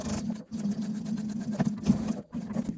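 A sewing machine stitches backwards across a crossbody bag in bursts of steady mechanical whirring, with brief pauses between runs.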